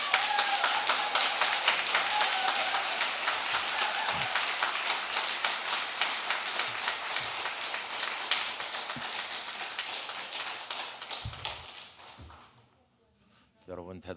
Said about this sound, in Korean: 목사님 나오실 때 우리 큰 환영의 박수 하겠습니다